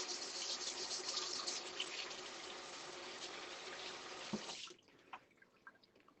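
Tap water runs steadily over spring onions being washed in a kitchen sink, a continuous broadband splash that stops abruptly near the end, leaving faint drips and small clatters.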